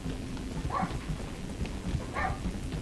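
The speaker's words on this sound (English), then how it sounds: "The dog is barking." Dog barking in the video game Dungeon of Naheulbeuk, two short barks spaced about a second and a half apart, moderately loud over a steady low hum and faint pattering background.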